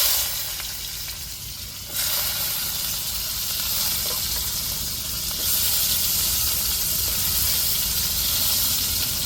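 Onion and tomato hit hot oil with mustard seeds, giving a loud, close, continuous sizzle. The hiss surges sharply as they go in and swells again a few seconds later.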